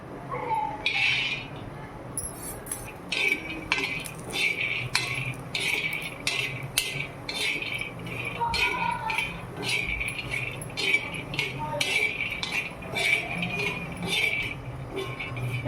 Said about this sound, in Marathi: आधी आपल्याला शेंगदाणे भाजून घ्यायचे